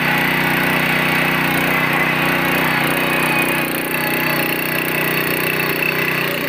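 A small multipurpose farm machine's engine runs steadily and loudly, a close, constant mechanical drone with no pauses, used for tasks like ploughing, wheat cutting and pumping water.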